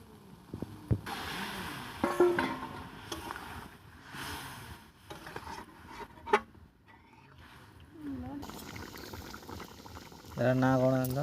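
Water bubbles at a boil in a pot of homestyle crab curry, a low steady simmer with occasional clinks and handling noises, and a voice speaking briefly near the end.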